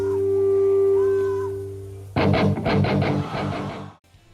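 A sustained droning tone gives way to a band crashing in live, heavy rhythmic hits for about two seconds before stopping.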